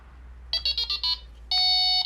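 A Delkim radio receiver's anti-theft alarm sounds as a quick burst of five high electronic bleeps followed by a longer, loud continuous tone, close and clear with no talk over it.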